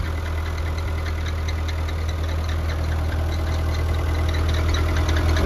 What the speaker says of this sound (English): it's the alternator right there